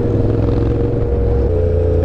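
Yamaha R1 sport motorcycle engine droning steadily at low revs in first gear during a group ride, a loud continuous rumble close by with no pauses.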